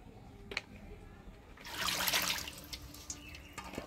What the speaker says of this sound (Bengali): সবজিটা কাটে নিলাম, এবার পরিষ্কার করে ধুয়ে নিচ্ছি।